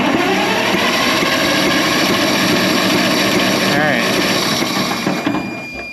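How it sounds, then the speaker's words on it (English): An old fire truck's flathead engine cranks over in a loud, steady mechanical churn that runs without a break and eases slightly near the end. "we're gonna crank it over here and just watch it for a minute."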